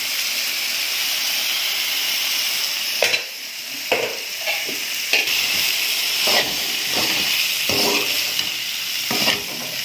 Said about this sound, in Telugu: కారం కూడా వేగాలండి.